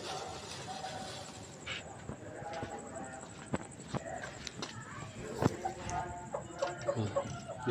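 Three Aseel hens cluck softly at night, scattered low clucks and rustling with footsteps, faint and close, under a steady high electrical whine.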